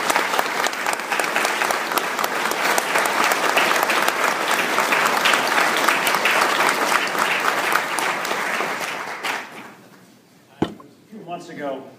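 Audience at a Worcester Economic Club dinner applauding to welcome a speaker, loud sustained clapping for about nine seconds that fades out, followed by a sharp knock and a speaking voice.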